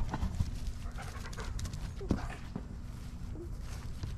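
A dog pants steadily and close, with light footsteps and shuffling mixed in at a quiet level throughout.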